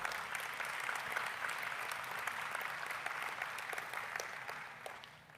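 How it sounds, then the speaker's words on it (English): Steady applause from an audience at the SMU Athletics Hall of Fame and Hall of Honor ceremony, a dense even clatter of many hands that tapers off at the end. "A round of applause."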